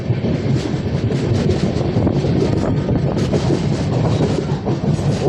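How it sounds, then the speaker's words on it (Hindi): A passenger train on the Khandala ghat climbs with one locomotive pulling in front and three pushing behind, a loud continuous rumble with clickety-clack of wagons and wind noise, close and alone. "अब हमारी ट्रेन को एक लोकोमोटिव आगे से खींच रहा है और 3 लोकोमोटिव हैं पीछे"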